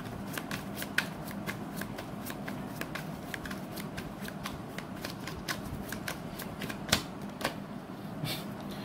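Tarot cards being shuffled by hand to draw a single card, making a rapid, steady run of crisp riffling flicks close by over a soft background hum, with no talking.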